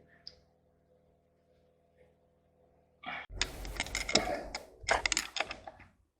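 A ratchet with a T30 Torx socket loosens bolts on the Mercedes-built 2.7 CRD engine of a Jeep Grand Cherokee WJ. After about three seconds of near silence, dense, rapid metallic clicking comes in close and fairly loud, in uneven bursts.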